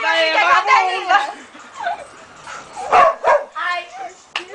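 A small dog gives a few yips and whimpery barks, close by, mixed in with people talking excitedly during a New Year's gathering.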